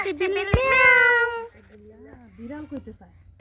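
A cat gives a loud, drawn-out meow, followed by a few softer, lower meows and chirps.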